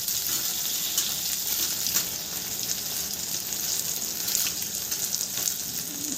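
Pumpkin pieces and red chili powder frying in hot oil, with a dense, continuous sizzle and crackle throughout, fairly close and with no talk.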